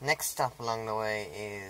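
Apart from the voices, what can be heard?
No everyday noise stands out behind the speech.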